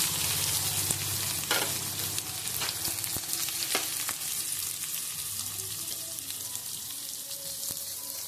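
Small shallots and dried red chilli fry in hot oil with a loud, continuous close sizzle and a few sharp stirring clicks, with no voices.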